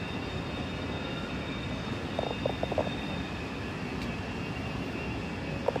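Jet airliner at a London airport getting ready to depart, heard as a steady, distant broadband engine roar held evenly throughout, with a few faint short clicks and clanks rising briefly over it midway.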